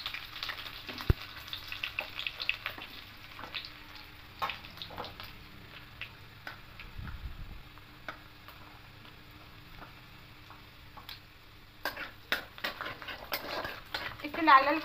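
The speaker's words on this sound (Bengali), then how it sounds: "এবার প্রথমে রসুন কুচিগুলো দিয়ে দেবো।" Chopped garlic frying in hot oil in a wok, a soft steady sizzle punctuated by the scrape and clink of a utensil stirring against the metal, close and fairly quiet, busier stirring near the end.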